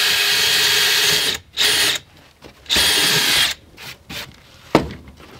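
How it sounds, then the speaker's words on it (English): A power drill bores holes into the side of a plywood box, with several loud whirring bursts of a second or so, separated by short pauses, heard close up and without talk. "we're just going to drill a couple of holes into the sides of this plywood"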